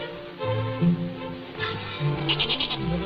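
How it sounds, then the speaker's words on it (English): A goat named Burley bleats in a 1930s film scene, the wavering bleats fairly close and mixed with a musical score beneath. "Burley's a very warm goat, isn't she?"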